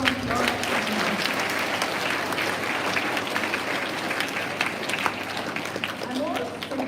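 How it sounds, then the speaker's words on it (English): Sustained applause from an audience at a school assembly, a dense, steady wash of clapping that fills the whole stretch, with voices mixed in underneath. "A big round of applause."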